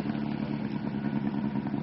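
A 2.5 litre VW Beetle drag car engine runs at a steady, loud idle with a dense, continuous rumble and slight clatter throughout, with no pauses or revving.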